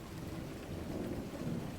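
Steady rain with a low rumble of thunder in a video game, a dense continuous wash of noise at moderate level with no talk.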